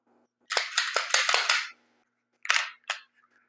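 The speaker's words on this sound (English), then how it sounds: "First, let's make sure this gun is safe." Pistol being checked and cleared with its magazine out: a run of sharp metallic clicks and clacks from the slide and action, a pause, then two more crisp clacks, close and loud.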